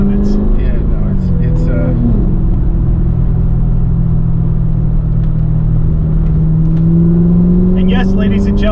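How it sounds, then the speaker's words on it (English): A Callaway Corvette Z06 making 757 horsepower drones loudly and steadily from inside the cabin, its pitch gliding down and climbing back as the engine blips through rev-matched downshifts, a continuous heavy rumble throughout. "You can hear the rev match that as you come down in gears, the computer will hit the RPM for the next lowest gear."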